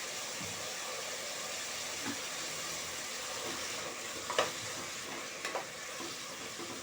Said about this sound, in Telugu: ఇవన్నీ కొంచెం ఆయిల్లో మగ్గనిద్దాము